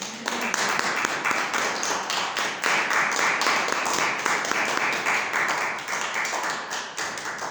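Sustained clapping from a church congregation during a Spanish-language prophets' school service, a dense broadband patter of many hands that stays steady and fairly loud for the whole stretch, with a faint voice briefly under it.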